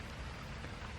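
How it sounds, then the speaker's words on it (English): Rain falls over a deep irrigation pond on a fruit farm in Thailand, a faint, even wash of hiss with no distinct drops or voices, steady for the whole second. "It's raining again in Thailand."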